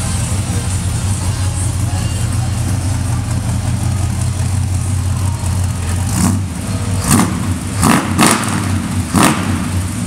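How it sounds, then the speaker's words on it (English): Exhaust rumble from a 1956 Chevrolet Bel Air with a 350 engine, heard from the rear as a steady, loud idle followed by several short blips of revving near the end. "Jump to the back so you can hear the exhaust."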